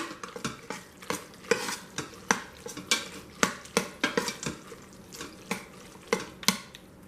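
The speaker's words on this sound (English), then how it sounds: "Stir in your Velveeta." Velveeta cheese being stirred into Instant Pot mac and cheese, a close series of rhythmic scraping and clinking strokes of a utensil against the pot, repeating roughly every half second over a soft background sizzle.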